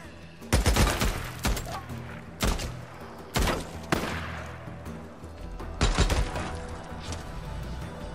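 Heavy gunfire from guns in the video game Days Gone, loud close bursts and booming reports at irregular intervals over a steady background rumble.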